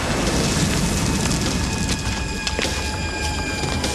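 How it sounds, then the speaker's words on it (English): Distant thunder rumbles low and steady through the whole stretch, a broad continuous roll with a few faint swells and no voices over it. "You hear distant thunder."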